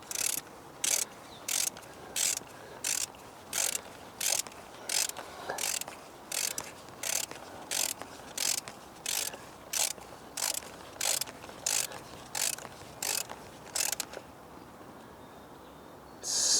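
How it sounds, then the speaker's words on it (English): A ratchet tightening a spark plug on a Ford C-MAX, a regular series of sharp mechanical clicking bursts, close and fairly loud, stopping near the end. "probably have too big of a ratchet for this"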